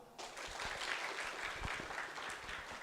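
Audience applause for a debating team at an international postgraduate symposium, starting abruptly and then sustained as a dense, even wash of clapping.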